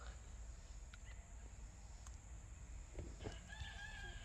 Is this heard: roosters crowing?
yes